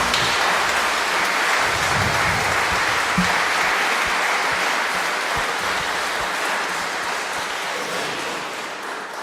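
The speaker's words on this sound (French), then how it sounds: "Merci beaucoup Boris, je crois qu'on peut l'applaudir" An audience at an evening conference bursts into sustained clapping, a dense even patter that fades gradually over about nine seconds.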